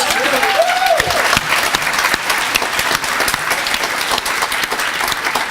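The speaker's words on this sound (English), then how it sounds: "so maybe another round of applause" Lecture-hall audience applauding steadily for several seconds, a dense, loud wash of clapping with a few voices mixed in.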